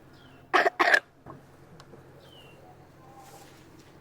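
A girl coughs twice in quick succession during a medical checkup in Nigeria, close and fairly loud, followed by a faint throat sound and quiet room ambience.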